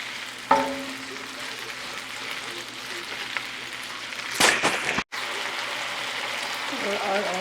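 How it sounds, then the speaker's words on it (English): Ground turkey and seafood sautéing in a pan for a Filipino pancit Malabon, a steady low sizzle throughout, with one sharp clatter near the start and a brief burst of louder stirring noise before a short dropout. "So we'll saute the ground turkey until like 5 to 10 minutes until it's completely cooked."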